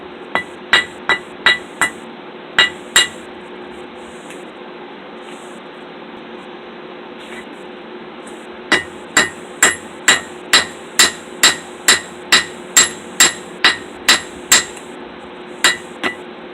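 Blacksmith hammering hot iron to taper the end of a hook, sharp ringing hammer blows struck in quick rhythmic runs, a handful of strikes, a pause, then a longer steady series, loud and close.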